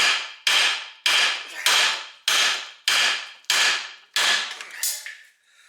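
Metal hammer blows on the front end parts of a 1968 GTO during teardown, about nine sharp ringing strikes in an even rhythm, loud and close with quick decays.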